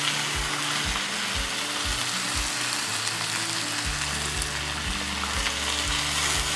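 Spinach sautés in a pan, giving a loud, dense, continuous sizzle and crackle right up close, with a low rhythmic mechanical hum pulsing underneath throughout.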